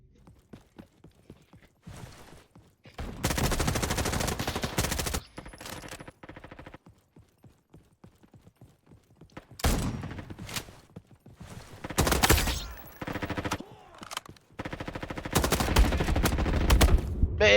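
Gunfire in the Roblox video game, heard as several loud bursts of rapid shots separated by quieter gaps, the last volley running to the end.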